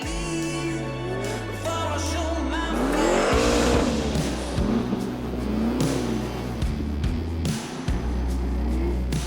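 A drift race car engine revving hard on track, with rising and falling engine pitch, tire squeal and skidding bursts, loud and close throughout with continuous motor roar.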